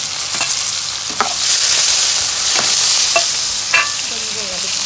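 Carrot, green chili and tomato sautéing in a pan, giving a steady loud sizzle broken by several brief scraping stirs of a utensil; no talking.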